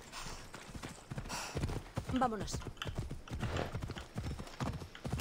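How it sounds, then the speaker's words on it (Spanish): Horse hooves clip-clop steadily in Assassin's Creed Odyssey gameplay, a rhythmic close trotting beat with a brief whinny, while someone speaks Spanish over it. "No sé por qué llamo el caballo."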